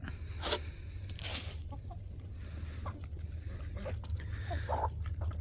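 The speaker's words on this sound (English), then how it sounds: "the chickens are all out here just scattered around, and they know when it's time to eat" Faint scattered clucks from chickens outdoors, a couple of brief louder calls standing out over low steady background noise.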